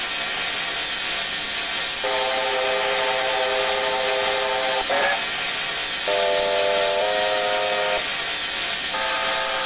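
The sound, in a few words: steam whistle of New Zealand Kb 4-8-4 locomotive, Train Simulator Classic video game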